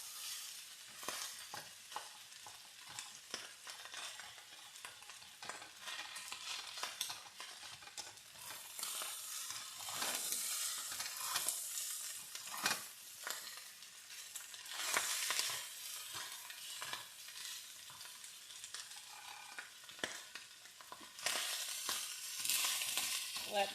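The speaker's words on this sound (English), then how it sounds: "got my pan nice and hot. You want it nice and hot so it can actually fry your rice" Pre-steamed rice stir-frying in olive oil in a very hot pan, a steady bright sizzle with repeated scraping stirs, close and continuous, with no talking.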